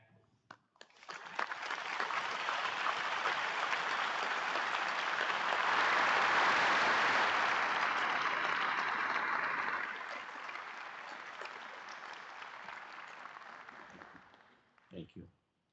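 Audience at a commencement ceremony applauding the standing faculty, a long sustained ovation that swells to a peak midway, then thins and fades out, with a brief voice at the very end.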